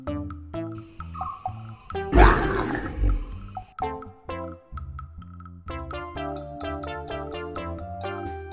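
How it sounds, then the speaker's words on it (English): A lion's roar bursts out loud and close for about a second near the middle, set within a bright musical backing with plucked notes that plays before and after. "Lion."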